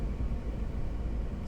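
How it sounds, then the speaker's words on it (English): Air conditioning running inside an Electra Meccanica SOLO electric car, a steady close fan hiss over a low, even cabin rumble with no pauses. "Let's test the AC a little bit here."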